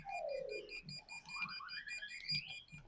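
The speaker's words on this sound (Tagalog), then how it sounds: "Nag-aalarm sila." A Lilytech ZL-6231A egg incubator sounds its electronic alarm in a steady series of thin beeps and warbling, sweeping tones. The alarm is moderately quiet and plays alone, with no voices.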